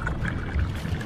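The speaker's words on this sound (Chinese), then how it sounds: "随后加酱油、料酒、冰糖、姜末和适量鸡汤" Soy sauce, cooking wine and chicken broth pour into a hot wok of stir-fried bamboo shoots and sliced pork, a steady close wash of liquid hiss and sizzle with no voices.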